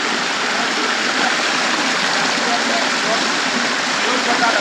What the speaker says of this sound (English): you can hear the noise of the water